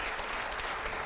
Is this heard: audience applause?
yes